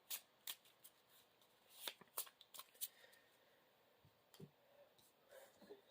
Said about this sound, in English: We'll go ahead and shuffle in our obligation card.